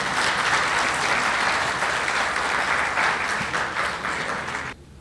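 An audience at a mushaira poetry gathering in Bahrain gives a guest a warm welcome with dense, sustained applause that keeps an even level, then tapers and cuts off near the end.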